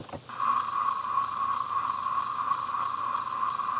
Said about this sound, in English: yes, crickets